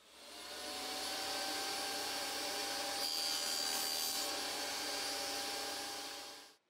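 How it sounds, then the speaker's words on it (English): A table saw with a micro-adjustable crosscut sled cuts miters in wooden molding for a spinet, a steady close whine with the blade biting through the wood midway, then spinning down at the end; no talking. "I find the most accurate way to cut miters for the molding is with this micro-adjustable crosscut sled on a table saw."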